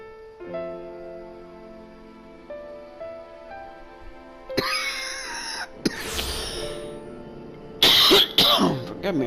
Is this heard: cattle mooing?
no